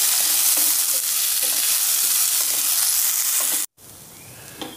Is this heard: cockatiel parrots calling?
no